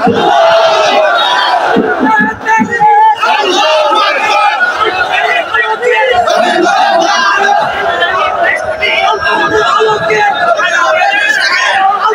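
A large crowd at an Islamic religious gathering loudly chants the takbir, Allahu Akbar, answering a preacher's call, with voices roaring together in repeated bursts that fill the space throughout.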